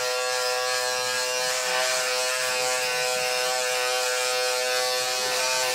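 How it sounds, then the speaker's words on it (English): An electric foil clipper trims hair with a close, steady high-pitched buzzing whir that holds unbroken throughout with no talk over it. "called a foil clipper."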